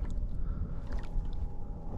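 A fishing boat's engine motor runs in reverse at half setting, a low, steady churning rumble with gurgling water, fairly soft and close, with no voices.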